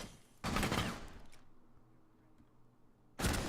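Gunfire from a Rainbow Six Siege tournament match, shots sent onto a stairway: two loud, dense bursts of rapid shooting, the first lasting about a second and the second cutting in at the end, with quieter in-game ambience between them.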